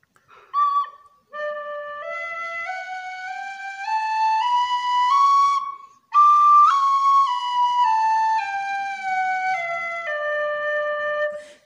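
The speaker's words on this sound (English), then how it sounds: "I also have the thin whistle." A thin whistle from African music, played alone as long sustained tones that glide slowly upward, then downward again, after a short opening note, clear and fairly loud.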